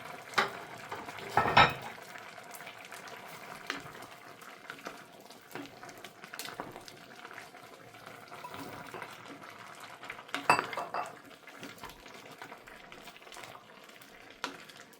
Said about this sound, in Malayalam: ഞാൻ നമ്മൾ അരിഞ്ഞു വെച്ചിരിക്കുന്ന ചേമ്പ് ചേർക്കാൻ പോവാണ്